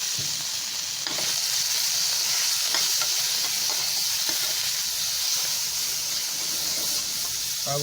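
Salt-and-pepper seasoned chicken fries in a little oil in a pan, giving a steady, loud, close hiss and sizzle that runs unbroken throughout with no talking.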